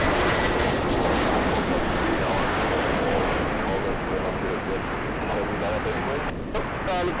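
Airliner engines roar loudly and steadily at Los Angeles International Airport, a continuous close jet rumble filling the whole stretch without a break.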